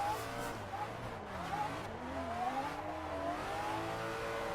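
Engine of a car drifting without the hand brake in a racing video game, revving steadily with pitch sweeping up and down through the slide, tire squeal mixed in, continuous and moderately quiet.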